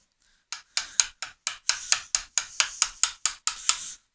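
A wood chisel struck with a mallet while cutting a stopped housing, about a dozen sharp, evenly spaced knocks, close and crisp with short gaps between them.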